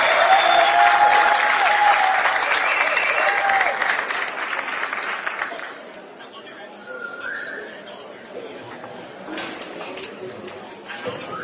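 Loud crowd applause with some whistling at a state of the nation address, sustained for several seconds then dying down to scattered claps and chatter.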